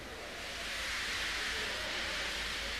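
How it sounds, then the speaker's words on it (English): Steam locomotive feebly letting off steam, a soft, steady, faint hiss that rises gently and holds for a few seconds, with no voices. "He just let off steam feebly."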